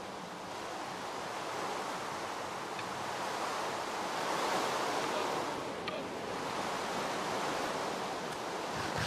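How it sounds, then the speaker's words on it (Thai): Steady rain falls in Minecraft in a desert area, a dense even hiss that holds level throughout with no voices. "ฝนตกนะครับฝนตกในทะเลทรายเหรอเป็นไปได้เหร"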